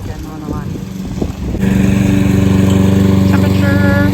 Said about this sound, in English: There's Babe again mowing the lawn.